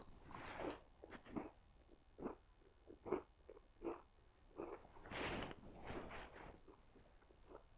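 Crunchy chewing of a dry Hobnob oat biscuit with whole oats, eaten during an off-road motorbike trip: a close series of irregular crunching bites and grinding chews, with a louder burst partway through.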